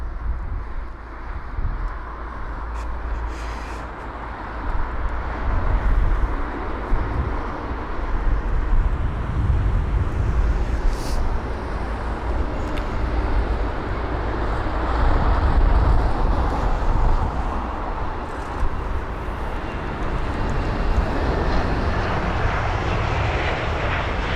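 A 21-year-old airliner arriving at London Heathrow on a windy day gives a loud, sustained engine roar and rumble that swells and lingers over nearly half a minute, with distant traffic noise beneath it.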